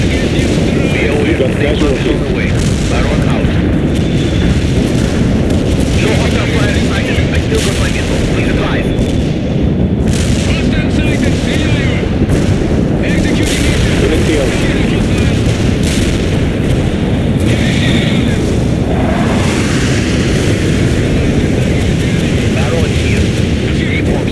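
Continuous heavy booms and blasts of artillery strike explosions in a video game roll through a dense, loud battle din, with voices talking over the chaos.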